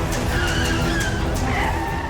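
A car skidding with tires squealing in a dramatic TV scene, a continuous loud screech with wavering pitch over rumbling engine noise throughout.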